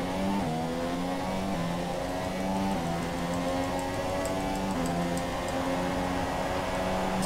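Race car engine in F1 2017 holding a loud, continuous high-pitched drone, the pitch dropping and climbing again with each gear change, steady and close throughout.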